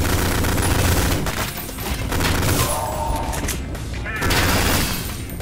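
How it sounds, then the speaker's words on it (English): Rapid submachine gun fire from the retro first-person shooter Ion Fury, loud dense bursts of shots with booms and thuds, continuous through the clip with brief dips between volleys. "A submachine gun."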